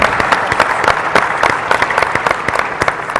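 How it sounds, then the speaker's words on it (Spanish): An audience at a national social oversight meeting panel session applauds a speaker, with sharp individual claps standing out from a dense, even round of clapping that continues throughout. "La recibimos con un fuerte aplauso."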